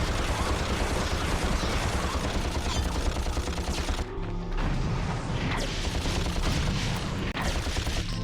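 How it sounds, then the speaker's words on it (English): Dense, continuous gunfire and mechanical clatter from the 2002 Ratchet and Clank video game during a tough boss fight, loud and busy throughout with a brief dip midway before the barrage resumes. "Stop running away from me and let me shoot you up with bullets"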